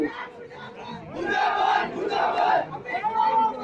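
Crowd at a trade union protest march in Kinwat town raising loud chanted slogans together, voices swelling in bursts across the clip with no clear clapping.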